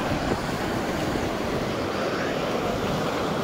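The Kandalgaon waterfall rushes in a loud, unbroken roar of falling water, close and steady throughout, with a windy rumble mixed in.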